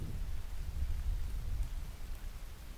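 Rain and thunder ambience from the Anchorhead interactive fiction game: a steady hiss of falling rain over a low, continuous rumble of thunder, with no voices.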